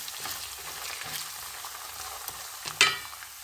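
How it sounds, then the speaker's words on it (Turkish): Tomato paste fries in a pan with a continuous soft sizzle, stirred with a few scraping strokes and one sharper clack near the end. "Salçasının ekşisi güzelce çıksın, kavrulsun."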